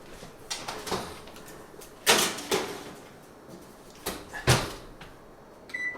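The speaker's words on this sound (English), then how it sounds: "So I'm going to stick these in the oven for 20 minutes." An oven door is opened and shut while a tray of ube pandesal goes in, giving several sharp knocks and thuds spread over a few seconds in a quiet kitchen, with a brief higher clink near the end.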